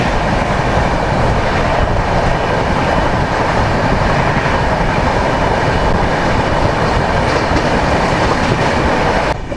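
A passenger train on an overnight journey from Kolkata to Odisha runs steadily on its rails, a loud, close, continuous rumble with rhythmic wheel clatter that lasts throughout.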